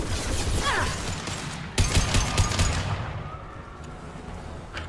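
Rapid bursts of gunfire from the video game Mass Effect 2, with a sharp concussive blast near the middle followed by a dense rattle of shots that tapers off into quieter rumbling.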